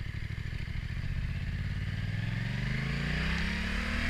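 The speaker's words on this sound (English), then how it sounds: "Driving to the next petrol station." A car drives to a nearby petrol station. The engine note rises steadily as it accelerates, heard from inside the car, with no one talking.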